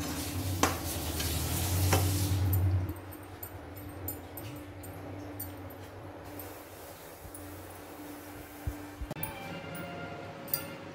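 A pot of sweetened milk rice balls (paal kozhukattai) is gently stirred with a spoon handle, giving soft scraping under a low simmer, with a louder bubbling burst in the first few seconds and occasional faint clinks.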